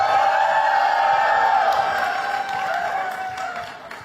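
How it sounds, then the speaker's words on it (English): An audience breaks into sustained applause and cheering, a dense wash of clapping and whoops that gradually fades over a few seconds at a cricket talk event. "Well, that deserves a round of applause."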